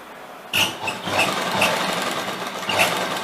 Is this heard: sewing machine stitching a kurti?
yes